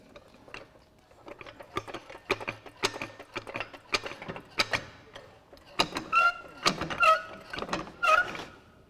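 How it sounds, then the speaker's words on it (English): A floor jack being pumped to lift a Stinson aircraft gives off repeated ratcheting clicks and metallic clanks in an uneven rhythm, close and moderately loud, with sharper squeaky strokes toward the end. "And you can just use a floor jack."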